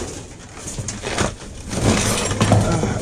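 Glass crunches and breaks amid rustling debris while someone digs through a dumpster, a dense, continuous scraping and clattering close by.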